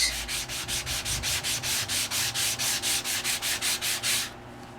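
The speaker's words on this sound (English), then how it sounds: "it's high enough for the sandpaper to hit it and bring it out." Rhythmic back-and-forth rasping of sandpaper across embossed color core cardstock, about seventeen even strokes close to the mic, stopping abruptly near the end, with no talking.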